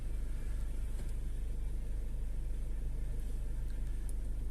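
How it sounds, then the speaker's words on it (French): A Peugeot 5008 engine, fully warmed up, runs during particulate filter regeneration. It gives a steady, fairly faint low rumble with a constant hum and no sharp rises. "Et là donc la voiture va se mettre à accélérer toute seule."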